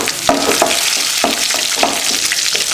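Onions fry until brown in a pan for a chicken and green pea gravy, a loud close sizzle broken by repeated scraping stirs every half second or so.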